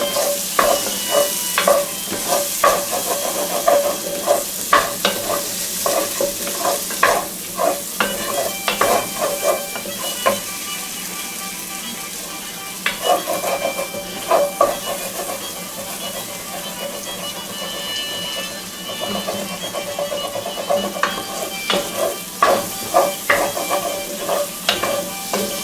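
Pork fingers sizzle steadily in a frying pan as they are stirred, with repeated scraping and clattering strokes over a continuous close, loud frying hiss.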